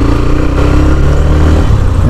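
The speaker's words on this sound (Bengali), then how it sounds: "এবার এখান থেকে একটু বাইকটা হালকা টেনে চালানো যাবে।" A Hero Xtreme 125R motorcycle rides along a main road with a loud, continuous, close engine drone and rumble, and a voice speaks over it.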